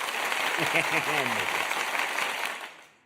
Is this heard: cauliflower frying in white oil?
no